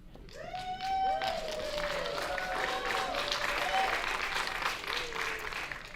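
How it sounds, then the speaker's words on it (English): An audience at a community conversation event applauds, with sustained, dense clapping throughout at moderate volume, and some faint overlapping voices. "Dr. Kimmerer, I don't know if you can hear the applause"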